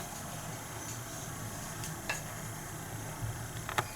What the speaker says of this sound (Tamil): இப்போ பாருங்க, தண்ணி கொதிக்க ஆரம்பிச்சிச்சு.